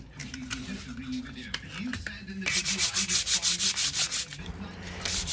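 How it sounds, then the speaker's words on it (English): Rhythmic scratchy rubbing of 120-grit sandpaper on a vintage Ludwig wooden drum hoop, slow strokes at first, then a run of fast, even back-and-forth strokes, with a voice talking underneath. "a lot of sanding. At this point, I'm using probably somewhere around 120 grit sandpaper"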